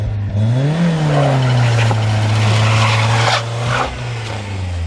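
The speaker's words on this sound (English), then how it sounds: "Dude, that clutch is slipping so bad." A BMW E36 engine revs hard during a burnout with a badly slipping clutch, a loud sustained drone that rises, holds, then drops off near the end.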